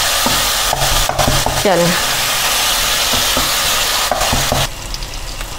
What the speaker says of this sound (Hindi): मैं इसको इसी तरह कट कट की तरह इनको टमाटरों को कुचल रही हूँ